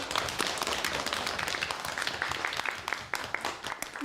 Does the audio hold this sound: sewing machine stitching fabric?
no